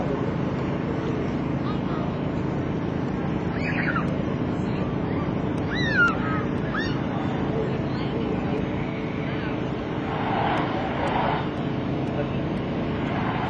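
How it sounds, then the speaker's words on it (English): F/A-18C Hornet jet engines rumbling steadily on landing approach at an airshow, a broad continuous roar with gentle swells in power, wind buffeting the microphone and voices talking over it. "You can hear the power changes as he approaches his landing spot."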